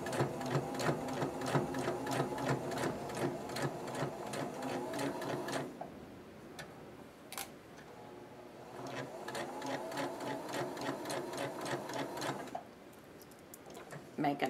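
Close, steady whir of a sewing machine stitching fabric for a bumblebee project, running in two long bursts with a brief pause and a sharp click between them, under faint background talk.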